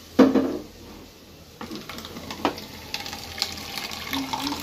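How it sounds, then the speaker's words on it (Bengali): Water splashing and pouring into a pot of cooking rajma (kidney bean curry), opening with a strong gush and then uneven splashes and clinks of cookware, heard close with no speech. "এবার রান্নার জন্য পানি অ্যাড করে দেবো।"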